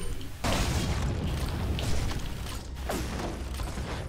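A grenade blast in the Resident Evil 4 HD remake, a loud broadband boom erupting about half a second in and rumbling on, with a second heavy burst near the three-second mark and lingering game noise.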